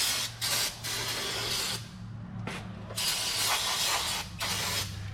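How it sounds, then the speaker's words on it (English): Aerosol brake part cleaner hisses in bursts onto the front and rear brake parts of a 2009 Ram truck, loud and close, with short pauses and a steady low hum beneath. "Just want to give it a good spray down."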